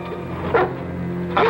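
Dogs bark twice in a 1980 Sleepy Hollow film scene, two sharp close barks spaced about a second apart over a low steady background hum.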